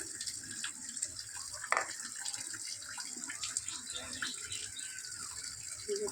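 Tap water runs steadily into a sink while bhetki fish are rinsed, a continuous close splashing stream with faint handling noises.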